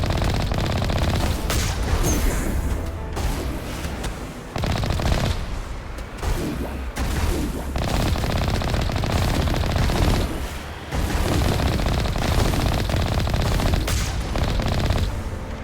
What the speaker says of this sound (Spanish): dejen de dispararme, malditos